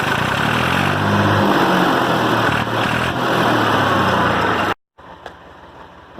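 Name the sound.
Massey Ferguson 231 tractor engine running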